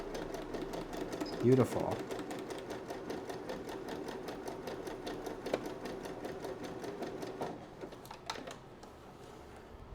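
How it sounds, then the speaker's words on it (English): A home sewing machine runs a fast, even needle rhythm while stitching two rows of zigzag, then reverses, a close, steady mechanical chatter with a brief exclamation of speech near the start. "starting with sewing 2 rows of a zigzag stitch on my sewing machine. Will it let me reverse? Ooh, it's letting me reverse."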